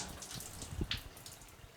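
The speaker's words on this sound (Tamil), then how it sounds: "இப்போ தண்ணி டேப்பில் வர ஆரம்பிச்சிருச்சு." Water runs from the tap of an instant electric water heater, a soft, faint hiss and trickle with a brief louder splash near the middle.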